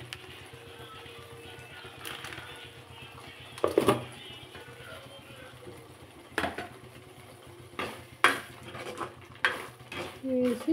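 Spices get stirred into a paneer curry in a pan, a soft continuous scraping and sizzle with several sharper clinks of a spoon against the metal, close up and without talking.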